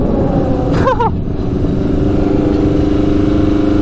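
A 100 hp Yamaha Banshee quad runs in second gear at about 66 mph, its engine a loud, steady drone that holds from start to finish, with a brief higher chirp near the start.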